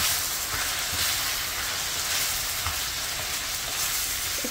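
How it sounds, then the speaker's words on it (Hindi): Onion and egg masala frying on a high flame, a steady loud hissing sizzle with occasional soft stirring knocks, close and continuous with no talk. "अब इसको क्या करेंगे, तेज फ्लेम पे फ्राई होने देंगे ये सारी चीज़ें"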